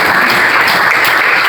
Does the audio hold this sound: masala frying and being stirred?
no